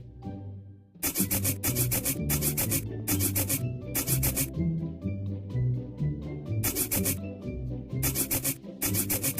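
Repeated rubbing strokes in a mobile English-learning game for kids as a word gets scrubbed clean, steady scratchy swipes in bursts over continuous cheerful game music, no talk.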